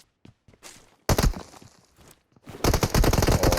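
Rapid bursts of gunfire in a shooter video game, a short volley early on followed by a sustained loud automatic stream, with faint footsteps and game noise between.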